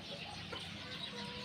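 A fighting rooster clucks and stirs inside its coop in a fairly wide backyard pen, the fowl sounds soft and close against a steady background hiss with faint low noise.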